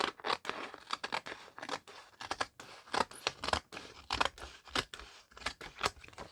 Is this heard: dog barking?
no